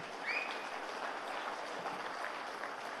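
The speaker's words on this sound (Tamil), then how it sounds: "இதுக்கு தான் நல்லா கைத்தட்டணும்." An audience applauds at an event in Tamil Nadu, a soft, diffuse patter of many hands clapping that comes from some distance, steady and faint throughout.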